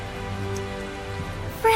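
Steady rain patters down in the video game Tales of Zestiria, a soft continuous wash under sustained background music tones.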